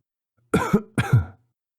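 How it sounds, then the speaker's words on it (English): Two dry, hacking coughs in quick succession, close and fairly loud, in an otherwise silent setting. "suddenly a cough broke the silence"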